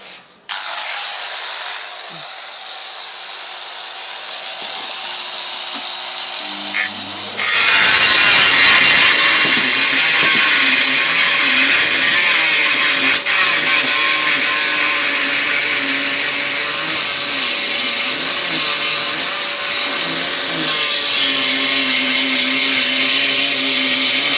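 Rotary engraver (ProClip) fitted with a Distar Butterfly 45 mm diamond disc spins up and cuts ceramic tile, a loud steady high whine with grinding texture after a quieter idle start, running continuously to the end.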